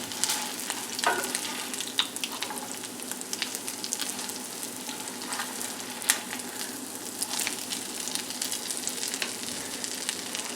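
Crab cakes fry in butter in a pan, giving a steady, close sizzle and crackle with occasional sharper spits and pops.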